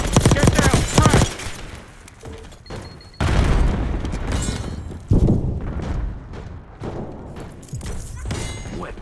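A frag grenade blast in Call of Duty Black Ops 6 multiplayer lands as a loud, close boom with heavy thuds and rumbling debris, mixed with bursts of gunfire and a brief shouted voice.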